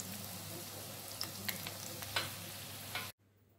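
Food frying in a pan for Tamil-style rava pongal, a steady close sizzle with a few crackling pops, cutting out abruptly near the end.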